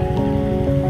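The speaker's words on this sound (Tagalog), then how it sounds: "nabutan pa ng ulan" Heavy rain pours near Cabongaon Beach in Pangasinan, a constant dense roar heard close up. A steady low hum runs beneath it and nobody speaks.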